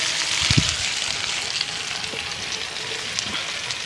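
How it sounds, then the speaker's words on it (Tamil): Okra frying in a pan on a home stove, a steady bright sizzle running throughout at an even level, with a few low knocks and stirring sounds near the start and no talking. "வெண்டிக்காய் பொரியல் அடுப்புல கிடக்கா"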